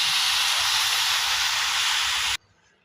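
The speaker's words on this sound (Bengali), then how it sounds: "এবার এতে দিয়ে দেব 1 কাপ পরিমাণের দুধ।" A cup of milk poured into a hot pan of chicken biryani sets off a loud, even hiss of steam that lasts about two seconds and then stops sharply, with no talk.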